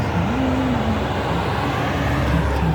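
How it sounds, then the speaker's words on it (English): A car passes close by on the road, a steady loud rumble and tire roar with an engine tone rising and dipping throughout. "before the next car passes because it makes such a loud sound"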